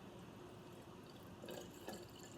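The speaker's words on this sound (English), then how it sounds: "pour the water in" Water is poured into a plastic bottle for an ocean-in-a-bottle science activity, a soft, faint trickling and gurgling that brightens into a fuller splash near the end, with no talk.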